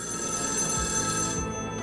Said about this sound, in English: Magic phone starts ringing.